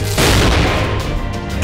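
A single heavy sniper rifle shot from the Fate/Grand Order video game, a loud close boom with a long rumbling tail.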